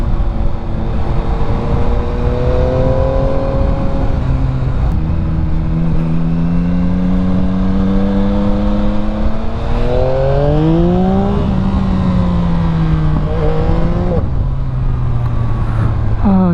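Yamaha XSR900 motorcycle ridden at night, its engine droning steadily with rising and falling pitch as it revs through gears, loud and close throughout, with wind noise and occasional speech underneath.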